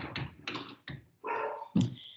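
A dog barks and whimpers indoors in a few short, loud bursts, with a brief thump partway through; no one talks.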